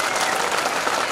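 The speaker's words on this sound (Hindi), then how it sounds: "बच्चों एक बार ताली बजाओ।" Schoolchildren at an annual school function applaud together in a dense, steady patter of many small hands, moderately loud and sustained across the short moment.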